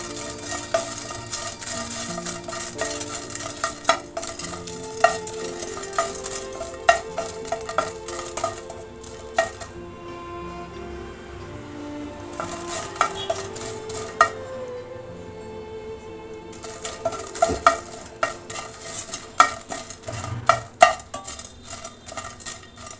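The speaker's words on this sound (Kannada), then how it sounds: "ಒಂದು ಅರ್ಧ ಚಮಚ ಜೀರಿಗೆ ಹಾಕ್ತಾ ಇದ್ದೀನಿ." Cumin seeds roast and get stirred in a pan on low heat for a garlic chutney powder, with repeated scraping and clinking of a spoon against the pan over a soft sizzle; no voices.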